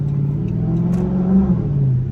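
A Dodge Neon SRT-4 engine revs loud and close while driving through the suburbs, a steady low throaty drone that swells briefly before settling.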